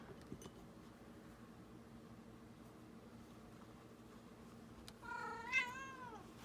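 A pet cat meows once, a clear drawn-out rising and falling call near the end, after a quiet stretch of low room hum in a crafting space.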